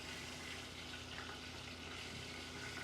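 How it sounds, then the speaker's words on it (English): Two tablespoons of butter melting in a pan for a roux give a soft, steady sizzle that runs continuously and fairly quietly, with no talking over it. "I've got 2 tablespoons of butter melting in my other pan."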